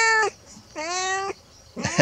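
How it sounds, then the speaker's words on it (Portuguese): A thin stray cat meows close by, two clear drawn-out cries separated by a pause, with a rough, noisier call starting at the end. "Olha que gato bonito."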